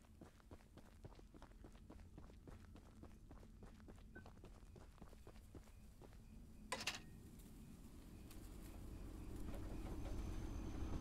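A small train runs along its track in the horror game Choo-Choo Charles, with rapid rhythmic clacking and a low rumble that builds louder toward the end, plus one sharp clank midway.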